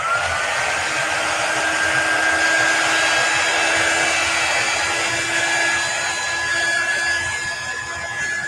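A hair dryer blows steadily and close by while chalk paste dries on a faux pallet sign, a loud, even whir lasting throughout.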